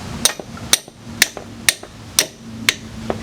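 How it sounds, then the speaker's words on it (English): Six sharp metal hammer strikes on a 2005-2014 Jeep Grand Cherokee front wheel bearing land at an even pace, each a bright clank with a faint ring, close up with no voices. "get it towards the bottom and then hammer it up"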